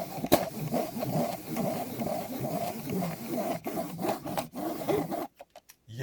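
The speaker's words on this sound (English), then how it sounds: "I really should have cleaned this mouse before rubbing it like that" A gaming mouse is rubbed back and forth across a Razer Invicta Mercury dual-sided mouse mat, producing a close, steady scraping rub in repeated strokes that stops abruptly near the end with a few short scuffs.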